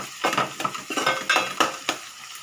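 Onions fry in a pan, with a spoon scraping and clinking in several quick close strokes over a light sizzle.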